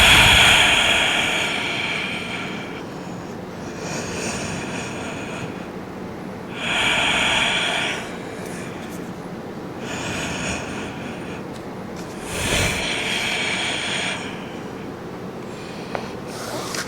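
Slow, deep breaths during a Pilates stretch, with long audible inhales and exhales repeating about every three seconds, close and fairly loud, with no talking.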